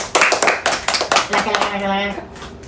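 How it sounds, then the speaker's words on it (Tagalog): Children in an elementary classroom clap for themselves after an arts demo lesson, a short burst of several rhythmic claps, then a voice speaks. "Bigyan nga natin ng palakpak ang ating sarili."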